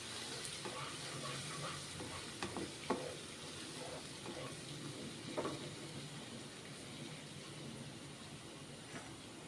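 Ginger and garlic fry in a pan, a quiet continuous sizzle with scattered scraping taps from stirring throughout.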